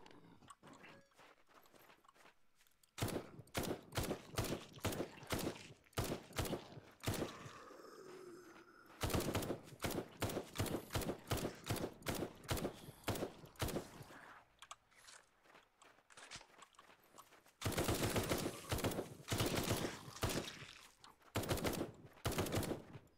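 A gun is fired in the zombie survival game Night of the Dead, with loud, rapid shots coming in three long volleys separated by brief quieter pauses.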